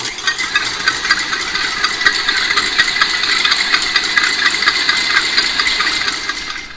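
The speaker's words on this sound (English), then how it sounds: "You want to use the whisk attachment and beat them until they're stiff." An electric mixer with a whisk attachment beating egg whites until stiff, a steady loud motorized whir with a faint regular rattling pulse, running alone without talk.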